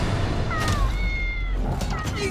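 Big cat vocalizing in a movie trailer scene, a couple of short pitched cries over a dense rumbling music and effects bed, moderately loud.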